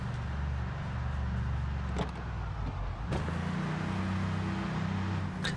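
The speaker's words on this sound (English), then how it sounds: "This van sounds a lot less aggressive in reverse than the pickup truck" A steady low engine drone with a slight whine from a van reversing in the video game Project Zomboid hums throughout, with a couple of brief clunks partway through.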